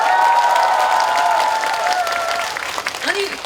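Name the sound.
audience clapping at outdoor concert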